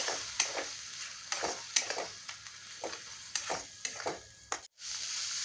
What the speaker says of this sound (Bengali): এখন এটা খুব ভালোভাবে কষিয়ে নেব।